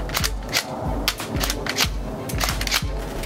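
A Mossberg full-stock pump-action shotgun fires a rapid string of sharp, loud, close blasts at a steady rhythm, each shot followed by a brief echo with no talking.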